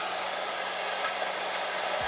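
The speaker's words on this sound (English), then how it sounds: "I'm going to put my blow dryer on cool and just run a little bit of air along my hairline." A blow dryer on its cool setting blows a steady, loud whoosh of air along a wig's lace hairline, continuous and unbroken with no talking.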